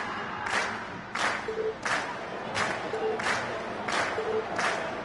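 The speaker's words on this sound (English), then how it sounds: "And we've heard your cheers loud and clear." A concert audience cheers and claps after a song, the applause rising in regular surging waves about every second. The sound is moderately loud and stays dense and crowd-like throughout.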